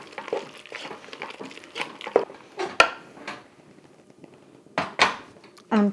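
Spoon clanking and scraping in a pot of mashed potatoes for potato soup, irregular knocks and sharp clinks over several seconds, fairly close.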